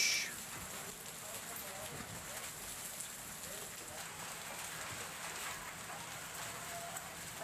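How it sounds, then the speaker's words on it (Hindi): Rain falls steadily during a storm, a dense, even hiss of drops holding at a constant level throughout with no voices. "तो कहीं आंधी, कहीं बारिश।"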